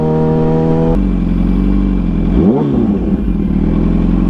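Motorcycle engine revving up close, a steady loud idle that climbs through a throttle blip mid-way and settles back to a rough, throbbing run.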